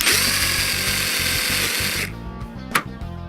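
A power drill whines loudly and steadily, then spins down and revs again briefly, close up with no talking.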